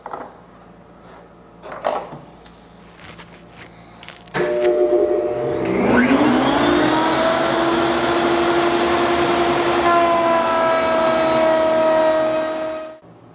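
A power tool, likely a router or saw, cuts a 1/4-inch-deep, 1/2-inch-wide groove in wood for a chest-of-drawers back panel, starting with a sudden loud whine that rises in pitch, then holds a steady, sustained cutting roar near the microphone.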